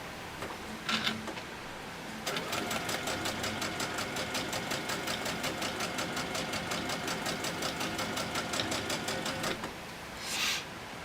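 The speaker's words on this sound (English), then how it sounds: "I'm basically just sewing a 1/4 inch seam right down the side." A sewing machine runs a quarter inch seam on a cotton table runner, its rapid rhythmic needle chatter steady for about seven seconds, bracketed by short clicks and handling noises before and after.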